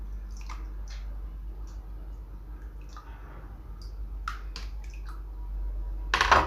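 Homemade liquid soap is poured into a container, giving quiet wet drips and squishy glugs in a still room, followed by a brief louder splash at the end.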